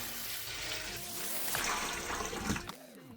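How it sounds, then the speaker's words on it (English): Lukewarm water pours and splashes steadily into a basin for washing kale, a continuous rushing flow that gurgles briefly and fades toward the end. "I'm going to be using lukewarm water"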